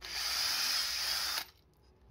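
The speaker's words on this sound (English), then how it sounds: "it's going to drill a little pilot." A power drill bores a small pilot hole into a wooden stud frame for a vocal booth, a loud steady high-pitched whir lasting about a second and a half, then cutting off abruptly.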